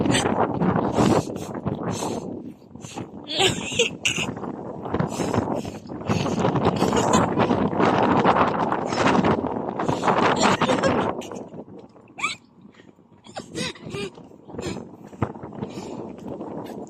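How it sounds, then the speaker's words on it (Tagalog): Strong, cold wind gusting outdoors on a street, buffeting the microphone with continuous roaring and rustling that swells and eases over the whole stretch, loud and close with no voices. "di talaga namin in-expect na sobrang lamig at sobrang lakas ng hangin"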